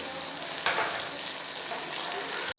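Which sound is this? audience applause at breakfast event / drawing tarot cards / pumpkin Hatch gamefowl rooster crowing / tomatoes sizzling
tomatoes sizzling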